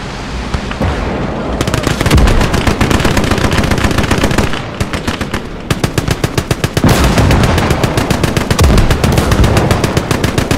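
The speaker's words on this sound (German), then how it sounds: "Feindliches Maschinengewehr!" Enemy machine gun fire in Call to Arms Gates of Hell, long loud bursts of rapid automatic shots with brief pauses between strings and heavy battle noise around them.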